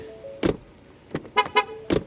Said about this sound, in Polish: W ogóle dźwięk otwierania i zamykania drzwi